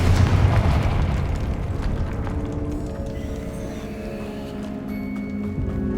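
A Confringo spell blasts in Hogwarts Legacy, a loud booming explosion that rumbles and slowly fades over several seconds, with faint crackling debris in the tail.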